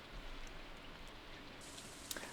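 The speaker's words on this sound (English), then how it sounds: "it's raining outside" Steady rain in the Stardew Valley farming game, a soft continuous patter with no talk, a brief brighter tick near the end.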